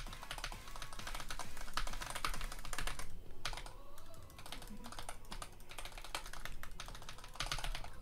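Rapid clattering of computer keyboard keys, close and fairly faint, with dense bursts of clicks broken by a brief pause midway, no voices.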